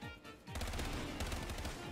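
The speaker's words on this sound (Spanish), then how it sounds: "¿Por qué disparo?" Rapid bursts of gunfire from a Mario-themed zombie survival video game rattle out in a dense volley, steady and fairly quiet, with game music underneath.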